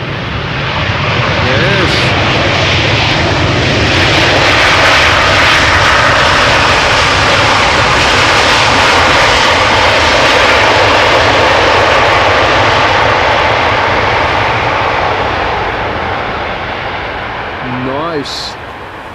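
A jet airliner landing at Amsterdam Schiphol Airport with engines spooling up for thrust reversers, a loud continuous roar swelling and holding, then easing off, heard from nearby outdoors while a person talks briefly.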